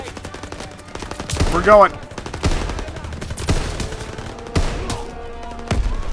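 Gunfire in the video game Call of Duty WWII, rapid repeated shots and bursts recurring through the stretch, loud and close, with someone talking over them.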